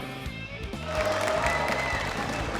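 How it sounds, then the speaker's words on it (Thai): Spectators at a televised Muay Thai main-event fight clap in a burst of applause that swells after a moment, with crowd murmur and background music. "ปรบมือให้กับเขาทั้งสองคนด้วยครับ"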